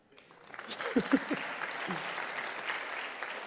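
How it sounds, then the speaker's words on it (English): Applause at a live comedy talk show in Amsterdam builds quickly from a few claps into steady crowd clapping, with a brief voice or cheer near the start, then continues evenly. "You got some applause there for explaining it in a very concise way."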